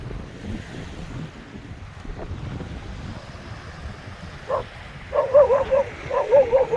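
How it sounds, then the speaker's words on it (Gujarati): Dogs bark and scuffle outdoors near water on a fishing trip. Wind noise and surf dominate until a short flurry of snarling, yelping barks breaks out near the end. "શું થયું કૂતરાને? હામ હામી લડાઈ થઈ જો."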